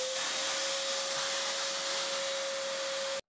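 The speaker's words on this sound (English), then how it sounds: "and then hit it with the vacuum" A vacuum cleaner runs continuously with a loud, steady whine and hiss, being used to clean up loosened material during a mobile home makeover, then cuts off abruptly at the end.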